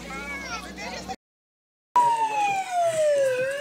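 Police car siren sounding on a display or toy police car at a children's day event, a loud wailing tone that drops in pitch, broken by a short silent gap before it resumes.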